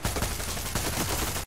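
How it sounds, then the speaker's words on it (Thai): Gunfire in the video game Far Cry 6: a loud, dense fusillade of rapid automatic shots rattling continuously for about a second and a half, with no talk over it. "ได้ยินเสียงปืนนะครับ"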